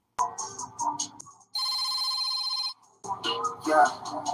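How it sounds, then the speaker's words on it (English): Telephone ringing with an incoming call: an electronic ringtone burst in the middle, with people talking before and after it. "It takes these two wet brains 9 rings to pick up Square's call"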